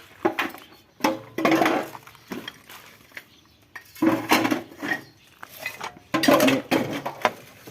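Metal pans and utensils clank and clink in irregular bursts, close by, with quieter scraping between.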